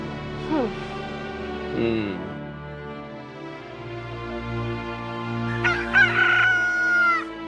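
A rooster crows up close several times, with one short call near the start, another around two seconds and a longer, louder crow toward the end, over a quiet background hum.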